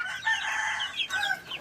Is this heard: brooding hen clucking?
yes